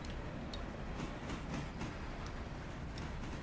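A train rolling along in the video game Railroader, a dense steady rumble with faint rhythmic clicks at even intervals, continuous and fairly close, with no talk.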